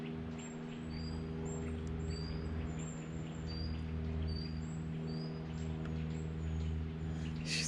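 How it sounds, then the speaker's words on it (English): Small birds chirp outdoors in short, thin, repeated calls, fairly faint over a steady low hum and background noise, with no talking. "as the birds are talking now"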